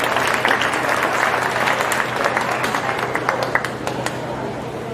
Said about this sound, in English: give everybody a nice round of applause as they exit the ring